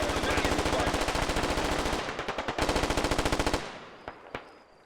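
Sustained machine gun fire in the military shooter Squad, a rapid, steady stream of loud automatic bursts that slows near the end into a few separate, fainter shots.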